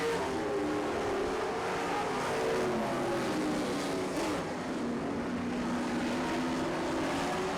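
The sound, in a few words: Dirt Kings late model race cars racing on track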